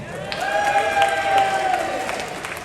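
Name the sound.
audience applause on cruise ship show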